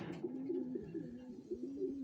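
Soft, repeated cooing from pigeons in a breeding loft, a few birds murmuring close by in a quiet space.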